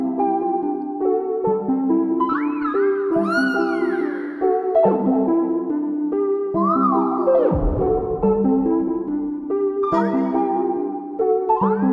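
Cat meows sound repeatedly over a bouncy melodic music bed, several drawn-out rising and falling cries scattered through the passage, prominent and close.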